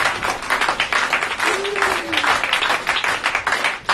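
A church congregation claps and cheers in praise at a French-language revival service, a dense, steady wash of applause across the whole moment, with a voice briefly rising over the crowd.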